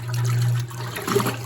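Antique Kenmore washing machine agitating clothes in water on a delicate setting, a steady motor hum under sloshing, churning water that surges and splashes in rhythmic pulses.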